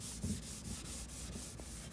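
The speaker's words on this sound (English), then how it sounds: "I'm just gonna use some paste wax, steel wool, and I'm gonna buff out those surfaces" Steel wool loaded with paste wax buffing a wooden kitchen cabinet surface, quiet close scrubbing in rhythmic back-and-forth strokes, roughly seven passes.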